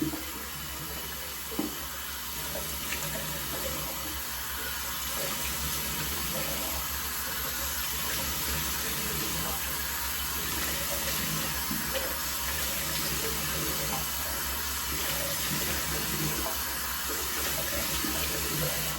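Running water pours steadily from a bathroom tap into a sink, used to splash hot water on the face before shaving, a loud, continuous hiss with no talk.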